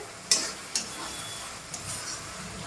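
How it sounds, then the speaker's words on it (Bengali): Spice masala with tomatoes frying in a pan for a yogurt chicken dish, a soft continuous sizzle with a couple of sharp stirring clicks near the start, close and fairly quiet. "মশলাটা আরেকটু ভাজা হবে।"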